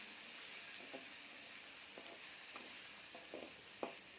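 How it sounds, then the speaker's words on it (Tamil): Country eggplant being sautéed in a pan for neem flower kuzhambu, a faint steady sizzle with a few soft spoon scrapes, the last one sharper. "நாட்டு கத்திரிக்காய் போடுறேங்க. இது நல்லா வதக்கணும்."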